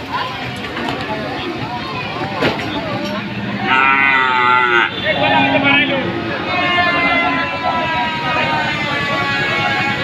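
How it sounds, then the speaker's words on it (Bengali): Red local cattle moo loudly at a busy rural cattle market in Jonail, Madarganj, Jamalpur, long drawn-out lowing calls close by, heard over constant crowd chatter and talking. "জোনাইল গরুর হাট আজকে এখানে দেখতেছি গরু সব লাল লাল গরু হাটে নিয়ে আছে"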